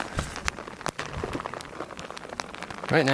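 Rain patters and drips irregularly on a nearby surface along a Yosemite hiking trail, with scattered louder droplets over a soft wet background.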